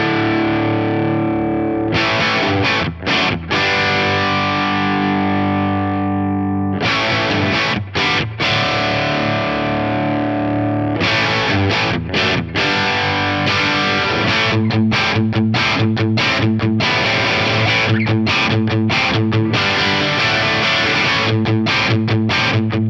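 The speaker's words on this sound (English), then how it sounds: "I always like the OD1 mode on my real JMP1 with the bass shift engaged." A Stratocaster runs through a Marshall JMP1 rack preamp in OD1 overdrive mode with bass shift engaged, giving loud distorted chords and riffs in bursts with short pauses and sustained ringing strums.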